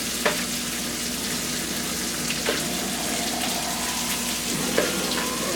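Shrimp and onions frying in a pan over lowered heat, a continuous close sizzle with a few soft clicks of shrimp being moved around.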